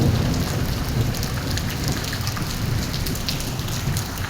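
Morning rain in Lahore at around half past seven, a dense, steady downpour hitting surfaces with a constant loud hiss and patter, close and unbroken, with no voices.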